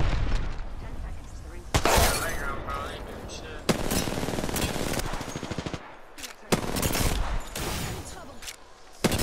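Rapid automatic gunfire from Apex Legends gameplay, sharp bursts with several loud shots standing out, plus a player talking over the shooting.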